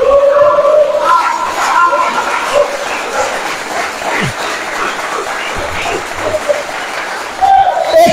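A church congregation applauds and cheers, a loud sustained mass of clapping and shouting voices, with a preacher's voice briefly rising above the crowd at the start and end.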